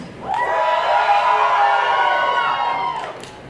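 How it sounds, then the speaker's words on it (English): A pro wrestling crowd at a Love Pro Wrestling x Clandestine Wrestling Society event yells and cheers in one sustained, loud roar of many voices that swells in, holds for about three seconds, then drops off. "You guys over here, let's hear you make some noise."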